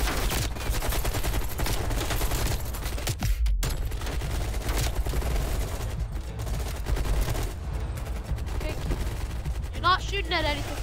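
Heavy rapid gunfire fills a Call of Duty Black Ops Cold War battle, continuous rattling bursts layered with other shots and combat noise, with voices talking over it.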